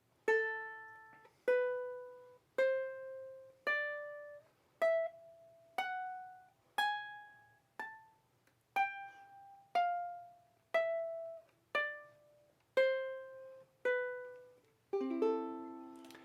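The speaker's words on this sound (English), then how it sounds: "So our entire melodic minor scale is going to sound like this very slowly." Single plucked ukulele notes ring out one at a time on a single string at a slow, even pace, climbing and then descending through a melodic minor scale, quiet and close.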